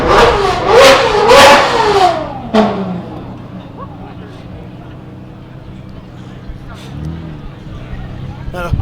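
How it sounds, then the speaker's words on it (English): A Ferrari 458 engine revs hard a few times up close at a car festival, loud and rising, then drops away to a low idle with background street noise. "That was a 458 just revving, which sounded absolutely glorious."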